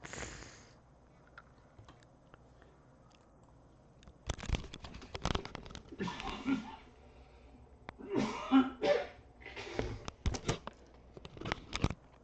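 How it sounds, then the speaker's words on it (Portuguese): Several short coughs and throat clearing come in bursts near the mic after a quiet stretch, fairly close and irregular. "tossinha chata"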